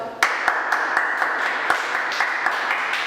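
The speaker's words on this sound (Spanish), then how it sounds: "Sánchez, por favor, un fuerte aplauso." An audience applauds in a steady wash of many hands, with a few sharper individual claps standing out close by, continuing evenly for the whole stretch.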